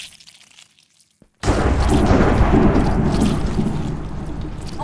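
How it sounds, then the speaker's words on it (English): Lightning strikes as parasites level up in Minecraft with the Parasite Mod. After a near-silent pause comes a sudden loud thunder crack, then a sustained heavy roar like rain and rumble that fills the rest of the clip. "that's the leveling up with the lightning"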